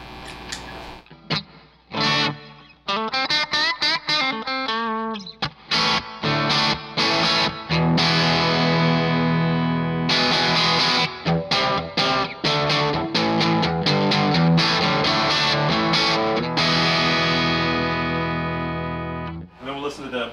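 Electric guitar played through a Marshall Dual Video amplifier with a touch of reverb, loud distorted chords and sustained notes in bursts with short gaps, ringing tails trailing off between phrases.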